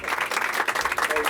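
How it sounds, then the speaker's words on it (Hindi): A short burst of clapping from an audience honoring the people behind Pakistan women's under-19 cricket trials, rapid and fairly close, with a voice speaking over it. "इनके लिए तो तालियां होनी चाहिए सबसे पहले"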